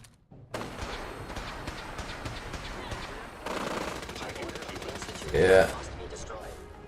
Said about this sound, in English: He's got a Gatling laser